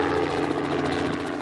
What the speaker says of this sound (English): The United Cajun Navy putting a chopper in the air